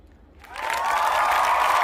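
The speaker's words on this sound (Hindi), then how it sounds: "सभी बच्चे आप अपने लिए तालियां बजाओ।" A group of schoolchildren in a primary classroom breaks into applause after a quiet start, the clapping swelling quickly into a steady, dense patter that holds loud to the end.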